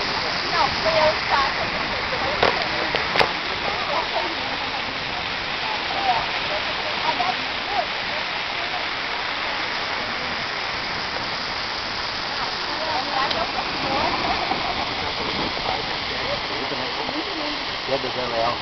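A waterfall in Urubici roars steadily as a broad, continuous rush of falling water, loud and unbroken throughout, with voices talking over it.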